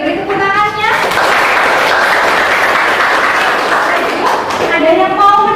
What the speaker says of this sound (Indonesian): Oke, beri tepuk tangannya.